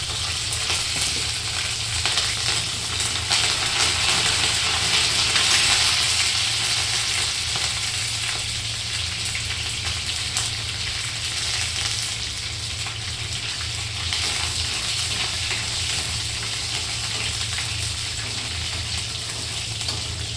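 Garlic and curry leaves frying in a pan for a vegetable dish make a steady, loud, continuous sizzle that holds close and unbroken the whole time.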